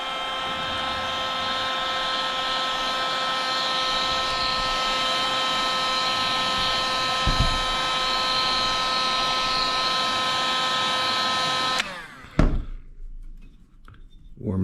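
A heat gun blows a steady, loud whirring roar as it warms a Talon grip applied to a Glock slide, running continuously before clicking off near the end, followed by brief handling sounds.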